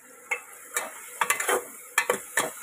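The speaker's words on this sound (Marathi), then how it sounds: "आता हे सर्व आपण हलवूया" Vegetables and spices stirred in a pan, a spoon scraping in several quick, separate strokes with a faint sizzle beneath, close and fairly quiet.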